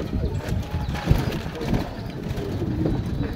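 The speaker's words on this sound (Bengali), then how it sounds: "দেশি কবুতর এর মাঝে 4-5টা বিদেশি কবুতর আছে এগুলোই এখন ক্রস ব্রিডিং হচ্ছে" A village flock of local and foreign pigeons, including crossbreeds, in Bangladesh gives soft low cooing and rustling close by. The sound is murmuring and continuous, with a thump partway through and no clear talk.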